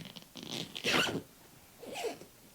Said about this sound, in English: See if it'll zip up.